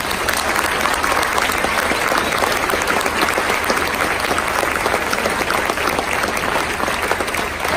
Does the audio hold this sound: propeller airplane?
no